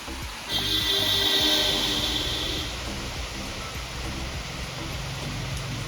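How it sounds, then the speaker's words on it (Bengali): Heavy rain falls steadily outdoors during a rainy day, a dense, even wash of noise. Somewhat louder for the first few seconds, then continuing at a moderate level, with no voices. "এখন এত বৃষ্টি হচ্ছে চলো তোমাদেরকে দেখিয়ে দিই এই যে দেখো অনেক বৃষ্টি হচ্ছে"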